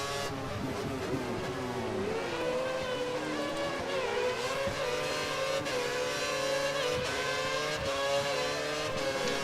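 Formula 1 race car engine in the F1 2013 game, a Sauber at the Bahrain circuit, revving hard with rising and falling pitch sweeps as the wheels spin under acceleration, loud and continuous with no talk.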